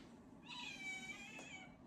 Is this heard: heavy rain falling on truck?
no